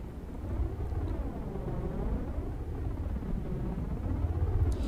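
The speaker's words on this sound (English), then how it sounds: "The shade disorientation field, it is always on while the shade is alive" Shade disorientation field ability in the video game Natural Selection 2, a steady, warbling low drone that hums on without a break through a fight, with no voices over it.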